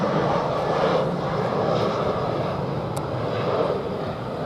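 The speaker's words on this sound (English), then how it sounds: "Now we've got another EasyJet passing through here." An EasyJet airliner passes over near Luton Airport, a loud, steady jet roar that fills the whole clip and eases slightly toward the end, with no talk.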